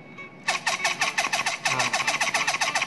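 A small electric motor runs at 4 volts, spinning up abruptly into a rapid, pulsing whir with a steady rhythmic chatter that continues to the end.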